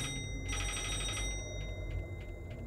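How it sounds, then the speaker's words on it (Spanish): Telephone ringing inside a video game set in an office, a bright electronic ring with steady tonal bands that swells loudly for a moment, then repeats in shorter, fainter bursts over a low background hum. "Suena un teléfono otra vez."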